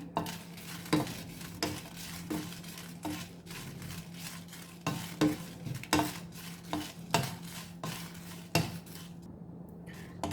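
Dried red chillies dry-roasting on low heat in a pan for rasam powder, with repeated sharp clinks and scrapes of a spoon stirring against metal over a soft, faint sizzle.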